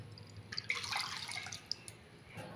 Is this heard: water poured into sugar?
yes